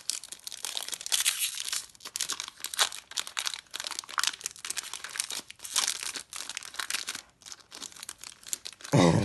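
Crinkly foil wrapper of a Pokémon card booster pack being torn open and crumpled, a close, continuous crackling and tearing that runs throughout with brief pauses.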